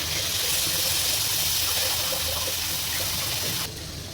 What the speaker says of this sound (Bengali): এই তরকারিতে জল দিয়ে দিলাম